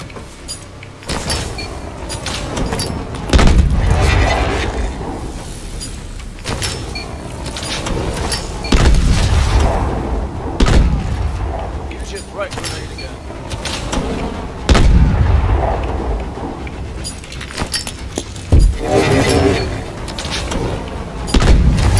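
Grenade explosions boom one after another during grenade training in Call of Duty Advanced Warfare, several heavy blasts spaced a few seconds apart between mechanical whirs and game effects.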